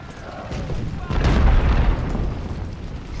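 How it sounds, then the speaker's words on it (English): Cannons fire in the Ultimate General: Civil War strategy game, a deep rumbling boom that swells and fades over a few seconds of battlefield noise. "So they have some cannons that are firing, but they're firing into our town"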